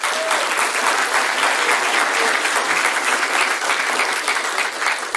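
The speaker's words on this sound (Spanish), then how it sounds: "Dale un aplauso al Señor." A church congregation claps together in sustained, dense applause that holds steady and loud throughout, with no voices standing out.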